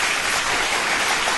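A button-triggered crowd applause sound effect for a mock live studio audience plays as a brief, dense, steady wash of clapping with no voices.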